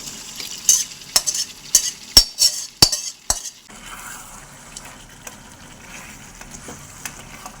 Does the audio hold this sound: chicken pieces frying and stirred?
yes